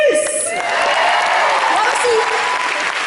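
A large audience at a touring Danse avec les stars show applauds after the judges give their scores, loud continuous applause throughout with a voice speaking over it.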